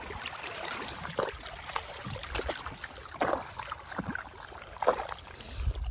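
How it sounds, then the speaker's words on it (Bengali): A small fishing boat moves on a river, with gentle water splashing and lapping against the hull. The faint knocks and swishes are steady and low-level, with no speech. "নেমে পড়েছি কিন্তু আমরা নৌকা নিয়ে জলে"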